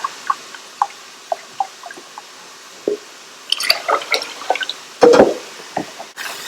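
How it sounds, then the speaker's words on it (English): Vegetable broth is poured into a blender, with scattered drips and splashes followed by a short burst of liquid filling and sloshing, close and alone without speech. "I'm going to put in 1 cup of veggie broth."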